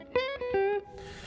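Electric guitar notes played through a Strymon Flint tremolo and reverb pedal, a few plucked tones that ring out and trail into a soft, washy reverb tail after the playing stops.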